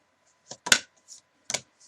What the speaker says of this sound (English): sorry, it's such a big deck. I can barely shuffle it sometimes.